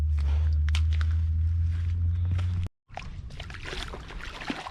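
Wading through shallow seawater on a beach, with sloshing splashes from legs moving through the water over a low rumble of wind, broken by a brief moment of silence.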